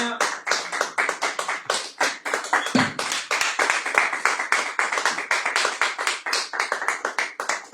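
Church congregation clapping to acclaim the Lord during a weekly worship service, a dense sustained patter of many hands filling the room, fairly loud and steady throughout with no voices over it.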